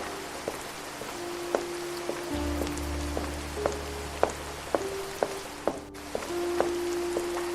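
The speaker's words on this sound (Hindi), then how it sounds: "सिर्फ बारिश की बूंदों की टप टप सुनाई दे रही थी" Raindrops drip in an irregular patter, distinct taps landing one after another over a low, steady background hum.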